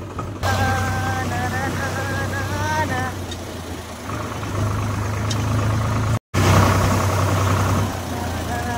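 A tractor engine runs at a steady idle on a paddy-sowing set, a close low throbbing hum with shifting pitch, a brief dropout, and people talking over it.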